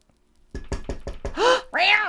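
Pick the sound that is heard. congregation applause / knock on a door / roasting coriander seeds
knock on a door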